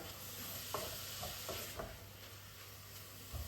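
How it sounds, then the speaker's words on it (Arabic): Carrots and onion being stirred in a frying pan, a spoon scraping in steady strokes over a constant low sizzle of frying, close and fairly quiet, with no talking. "نستمر نبقى نحرك حيت بالنسبه تا خيزو خصو ينزل تا هو شويه"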